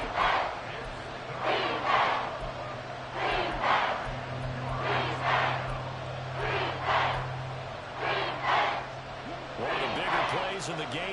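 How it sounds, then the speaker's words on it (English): A football stadium crowd at an XFL game swells in repeated roaring waves ahead of a big third down, a broad, distant-sounding cheer filling the space while an announcer talks over it. "the crowd getting into it as we come up on a big third down"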